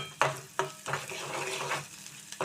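Onions frying in a pan, a close, continuous sizzle broken by a few sharp scrapes and stirring knocks of a spatula against the pan.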